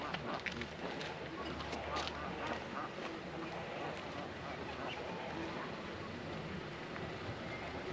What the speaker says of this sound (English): I even get to kayak with ducks and geese